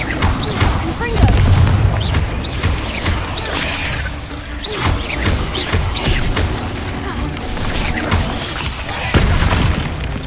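Repeated Confringo fire spell blasts in the video game Hogwarts Legacy, a continuous loud barrage of booms, crashes and crackling impacts with no quiet gaps.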